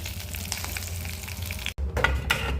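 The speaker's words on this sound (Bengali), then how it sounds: "এবারে আমি মাছের ঝাল দিচ্ছি।" Close, loud sizzle as a fish curry paste of ginger, onion, tomato, green and dried chilli and cumin hits hot mustard oil in a wok, a steady hiss broken by a brief gap and then renewed crackling bursts.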